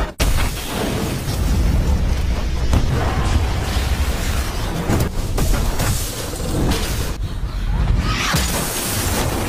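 A massive bomb explosion in the Korean zombie series All of Us Are Dead, a loud, sustained roaring blast with rumbling debris and crackling bursts that fills the whole stretch.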